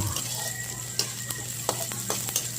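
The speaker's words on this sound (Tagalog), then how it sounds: "lagay mo na yung bawang" Garlic sizzles in hot oil in a pan while it is stirred, with a few sharp utensil clicks and taps over the steady frying hiss, close up and without talk.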